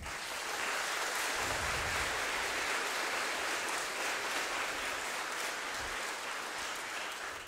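An audience applauds at a school music concert, a dense and steady wash of clapping that fills the whole stretch at moderate volume with no talk over it.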